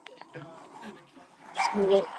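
Dogs bark outdoors at a Minnesota farm, in short bursts near the start and a louder cluster near the end, mixed with people talking nearby.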